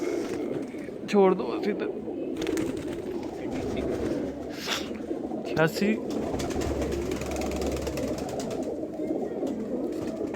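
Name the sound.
pigeons cooing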